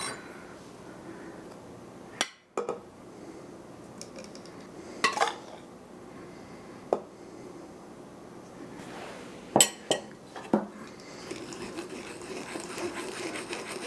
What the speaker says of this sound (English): I'm going to start by sifting my flour into the bowl of my stand mixer.